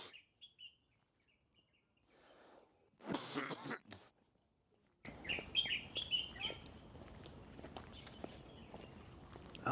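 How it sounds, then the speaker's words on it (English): Small birds chirp and tweet high up in trees in Paifang Park, China, on a Saturday evening: a few faint calls at first, then livelier repeated chirps among footsteps, rustling and a cough, with no talking. "some birds up there somewhere chirping away"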